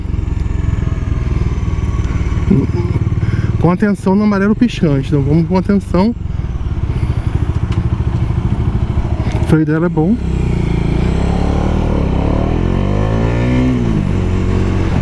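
A Bajaj Dominar 400 motorcycle engine drones steadily while being ridden, with revs rising and falling in short bursts early on and again midway, as the rider talks over it throughout.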